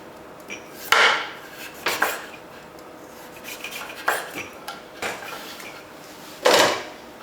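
A kitchen knife cuts the skin off a butternut squash on a board in a series of scattered scraping, slicing strokes with sharper knocks at intervals, close and fairly quiet.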